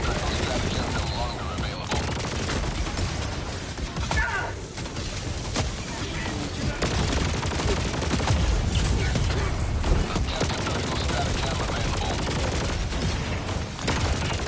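Dense, continuous gunfire and explosive mortar blasts in the video game Helldivers 2, loud and chaotic throughout, with rapid bursts layered over heavy booms.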